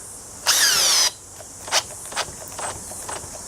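A Makita drill in P mode whines in one sharp half-second burst driving a screw into timber, followed by several short, quieter clicks and ratcheting taps as the screw stalls.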